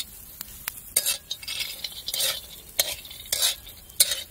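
Green chilies and peanuts roasting in a pan, with a spoon scraping and stirring in quick, irregular strokes over a soft background sizzle, close and fairly quiet.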